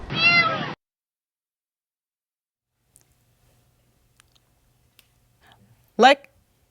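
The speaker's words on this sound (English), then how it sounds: "you could hear a little kitten in the storm drain meowing" Two thin, high meows from a small kitten trapped in a storm drain, one at the start and another near the end, separated by near silence with faint clicks.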